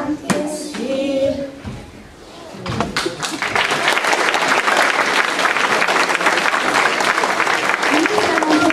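A crowd at a grandparents' party claps for kindergarten children dressed as firefighters. Voices come first, then loud, dense applause swells and holds steady to the end.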